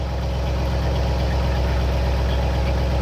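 A Ford F100 engine fitted with Holley Sniper fuel injection idles steadily and close up, a continuous low rumble with an even pulsing beat and no talking.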